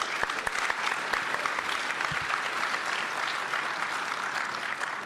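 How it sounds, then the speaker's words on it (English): Audience at the ShmooCon 2022 opening remarks claps for its volunteers, a sustained, fairly even burst of applause with no one speaking over it. "A round of applause for our schmoozers."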